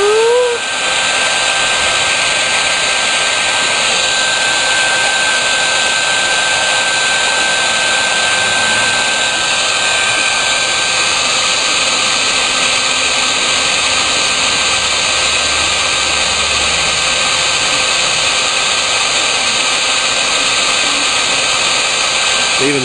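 Heat gun blowing continuously to shrink heat-shrink tubing, a loud, steady close roar of rushing air with a constant high whine, unbroken throughout.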